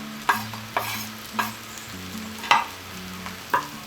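Onions for congomah sizzle in a hot pan while a utensil scrapes and stirs them in regular strokes, each stir a distinct close scrape over a soft, constant frying hiss.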